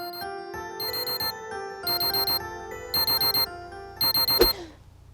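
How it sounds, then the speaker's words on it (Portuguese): Alarm clock ringing in loud, close bursts of rapid electronic beeping, four rhythmic pulses separated by short gaps, ending with a thump as it is cut off. "Aí o alarme tocou."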